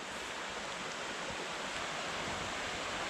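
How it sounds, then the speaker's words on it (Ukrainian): A steady, faint rushing of flowing water, continuous and broadband like a river heard from nearby. "річка шуміть"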